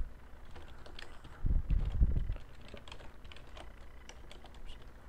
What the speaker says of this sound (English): type down the code